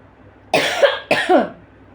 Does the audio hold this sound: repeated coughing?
yes